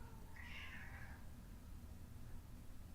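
A cat gives a single short meow partway through, fairly faint under a steady low hum and room noise, with no talk.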